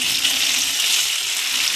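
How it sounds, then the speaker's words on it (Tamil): Tamarind, turmeric and salt mixture for lemon rice bubbling at a rolling boil in a pan, a steady close hiss and sizzle of boiling liquid with no pauses, loud and continuous with no voices. "பாருங்கள், நல்லா கொதிக்குது."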